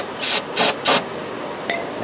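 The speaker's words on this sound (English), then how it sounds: "now I'm just going to spray this off a little brake clean" Three sharp hissing bursts from an aerosol can of brake cleaner, close and loud, then a brief fourth spurt after a pause.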